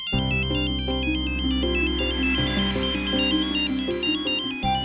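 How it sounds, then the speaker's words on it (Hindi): A mobile phone ringtone plays loudly and continuously, a bright electronic melody repeating its notes with no other sounds. "दीदी जिन्हें इतनी शिद्दत से याद कर रही थी, उन्हीं का फोन आ गया।"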